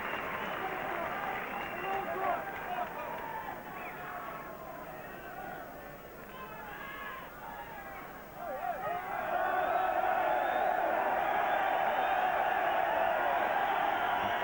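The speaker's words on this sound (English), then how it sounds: "Coaching on the touchline is what the crowd are complaining about." Football stadium crowd voicing complaints at the Derry City vs Benfica European Cup quarter-final in 1989–90. A steady, distant crowd roar runs beneath a commentator's voice and swells louder and more insistent in the second half.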